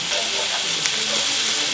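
A knob of garlic butter melts and fries with onions in a hot pan, giving a loud, continuous hissing sizzle close up with no one talking.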